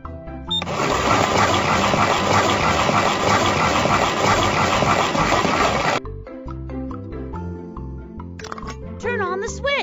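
A cartoon concrete mixer switches on and churns with a loud, steady, dense whirring rumble for about five seconds. It then cuts off abruptly, leaving a quieter stretch of voices and musical tones.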